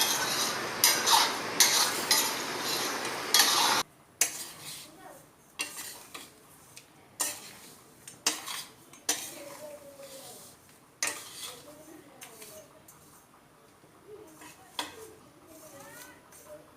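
A spoon stirs jowar flour and salt in a pan, giving scattered scraping and clinking taps against the metal with intermittent quiet talk.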